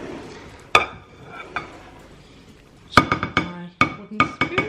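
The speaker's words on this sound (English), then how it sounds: "And now we're actually going to put in the fruit." Dried fruit tipped into a Christmas cake mixture in a bowl, with sharp clinks and knocks against the bowl in scattered bursts, an early single hit and then a rapid cluster of taps toward the end.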